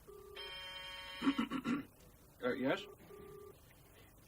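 A phone rings in repeated electronic tones, with a man's short spoken replies breaking in between the rings.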